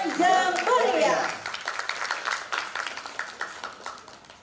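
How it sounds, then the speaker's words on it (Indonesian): Graduation audience at a university communication faculty ceremony claps for a performance, with scattered handclaps that thin out over a few seconds after a loud opening swell of voices and music. "Beri tepuk tangan yang meriah."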